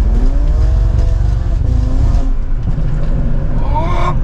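A BMW 335 engine revs loudly and steadily on kickdown, pitch rising and falling as it accelerates hard, with a brief surge toward the end.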